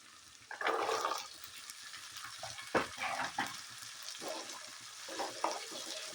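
Diced carrots and potatoes sauté in a pan with a steady low sizzle, and stirring strokes add bursts of scraping and rustling that swell and ease over several seconds.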